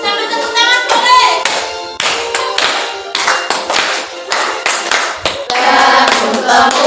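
Children in a classroom clap in rhythm while singing the Indonesian patriotic song "Bangun Pemudi Pemuda" during a practice teaching lesson; the claps are loud, crisp and close, with a few short pauses.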